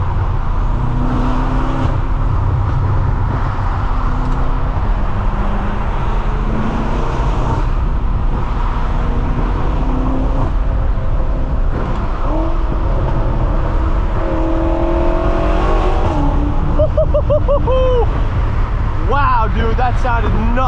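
A BMW M6 fitted with an aftermarket exhaust drives at speed with a steady engine roar under road and wind noise, then revs with rising and falling pitch sweeps near the end; voices talk over it throughout.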